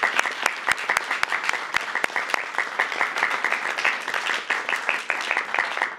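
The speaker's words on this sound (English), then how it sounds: "Give yourselves a round of applause." A White House school choice event audience breaks into dense, sustained applause, steady and fairly loud throughout with many overlapping claps.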